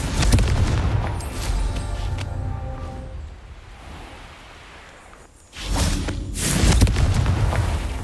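A Confringo blasting spell from the game Hogwarts Legacy erupts in a loud booming explosion with a whooshing tail that fades, then a second burst of blasts and rumble follows.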